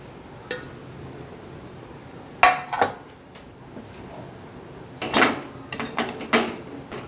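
Fried luchis are dipped into warm milk and set in a bowl, giving a few scattered clinks and knocks of utensils and dishes, sharp and close, with quiet stretches between.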